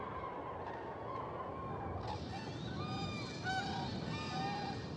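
European cranes calling on their spring migration from southwestern Spain toward northern Europe, a chorus of honking, trumpeting calls that swells and overlaps in a steady stream, heard at a moderate distance without talk.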